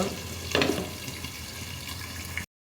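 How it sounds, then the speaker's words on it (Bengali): Chicken pieces fry in a pan for crispy chicken tandoori, giving a steady close sizzle with a brief louder burst near the start and no talking. "চিকেনগুলো দিয়ে দিয়েছি, ভালো করে ভেজে নেব"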